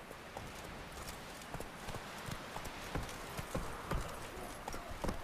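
Horse hooves clip-clopping in the video game The Witcher 3: Wild Hunt, a steady, fairly quick rhythm of hoof strikes over a constant background bed, moderately close and continuous.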